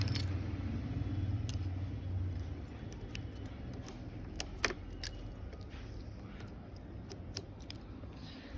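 Car keys jangle softly and intermittently as they are handled, with scattered metallic clinks over a low rumbling background.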